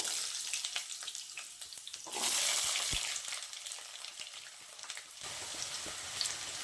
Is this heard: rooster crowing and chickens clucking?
no